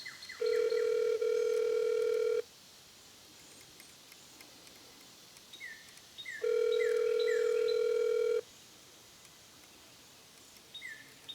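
A telephone call waits for an answer, with two long, steady ringback tones separated by silence and faint dialing beeps in between.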